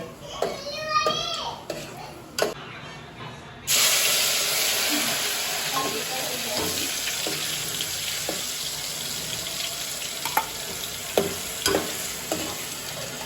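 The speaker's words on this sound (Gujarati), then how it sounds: "આપણે પહેલા કાજુ તળવાના છે" Oil sizzles loudly and steadily as cashews fry after a brief quieter start, with occasional sharp clinks and scrapes of stirring in the pan.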